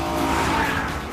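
A BMW M3 driving fast on the Autobahn gives a loud, steady roar of engine and road noise, heard close and continuous with a droning tonal hum.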